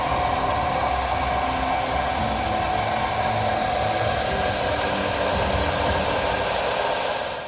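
A Renault Kwid's small petrol engine idles with the air conditioning running, a steady continuous hum with a rough vibrating undertone and whirring fan, close and unchanging throughout with no talk.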